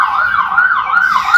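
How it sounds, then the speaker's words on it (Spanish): An ambulance siren wails in a busy street in central Santiago de Chile, its tone sweeping steadily up and down, loud and close, with faint traffic beneath and nobody speaking. "Una ambulancia."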